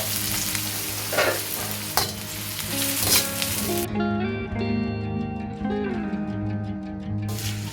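Two onions frying in about eight tablespoons of hot oil in a pan for beef macaroni, a steady close sizzle with occasional stirring scrapes and no talk.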